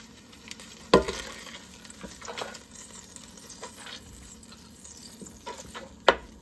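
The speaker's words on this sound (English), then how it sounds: "We're going to add 3 tablespoons of butter," Three tablespoons of butter melting in a pan over medium-high heat, a soft, steady close sizzle with a couple of sharp clinks or taps, no voices.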